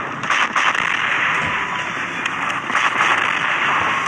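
Continuous crackling bursts of rapid gunfire from the online shooter game Planet Commander, dense and steady throughout with sharper peaks, heard alone without talk.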